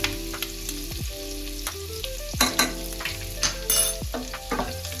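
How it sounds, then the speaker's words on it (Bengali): Chopped garlic frying with whole garam masala and ginger in a pan over a low simmer flame, a steady close sizzle broken by several scraping stirs and clinks of the spatula. "রসুনকেও আমি 30 সেকেন্ডস মতন ফ্রাই করে নেব"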